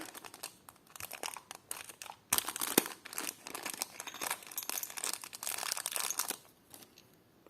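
Close, steady crinkling of a thin plastic packet, with irregular bursts of rustling and a few louder crackles, no talking.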